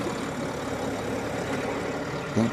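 A John Deere 5075E tractor runs with a five-point cultivator, its engine holding a steady, moderately loud drone throughout, with a brief louder knock near the end.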